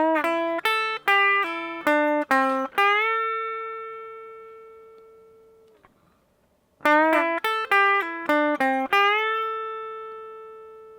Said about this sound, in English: using bends with hammer-ons and pull-offs create this kind of fluid lick that sounds really quite good.